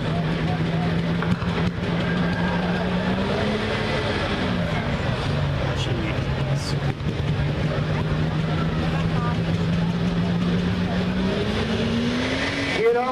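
Heavy super stock diesel tractors, 8,000 lb class, at an NTPA tractor pull in Monticello, Iowa, revving their turbos in a loud, continuous engine roar with rising and falling pitch, and a voice heard over it.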